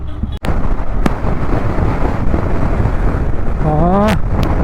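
Strong wind buffets the microphone while riding a motorbike, a loud continuous roar with a brief dropout and a few sharp knocks, a short tonal whine near the end.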